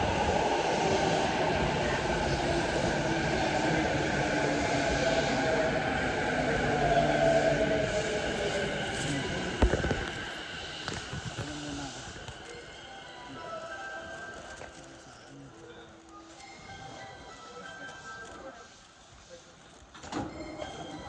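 A train in Japan rumbles and squeals along the rails, with a steady mechanical drone that fades as the carriage noise thins out, followed by scattered clunks.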